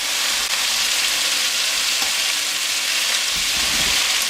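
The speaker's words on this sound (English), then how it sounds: "we just want them to soften in the oil. So you just keep them moving around." Vegetables fry and are stirred in oil in a big pan, softening rather than browning while cooking venison steak; a steady close sizzle runs throughout with occasional scrape and stir noises.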